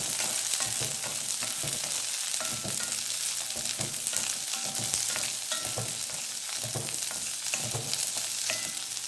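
Grated coconut sautéing in a pan for mutton kheema gravy, a steady close sizzle with soft scraping stir strokes running throughout.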